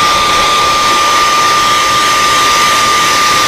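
A heat gun blasts loud and steady at close range, drying sprayed paint on a fishing lure, an unbroken roaring whoosh with a constant whine and no pauses.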